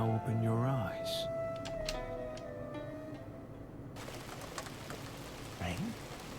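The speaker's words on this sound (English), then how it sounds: "Rain? The sky was clear just seconds ago." Rain falling in a video game, a steady wash of drops on surfaces continuing throughout, with game music and tones over it early on and a short voice-like sound in the middle.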